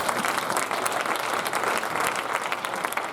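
A church congregation applauding in praise of the Lord, dense sustained clapping from many hands filling the hall without a break, fairly loud and even.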